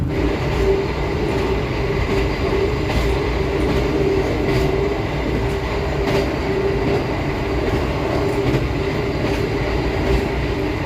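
An executive-class train carriage on the Pandalungan line in Indonesia rattles and clatters steadily on the rails, with a continuous loud rumble and repeated clicking of wheels over track joints.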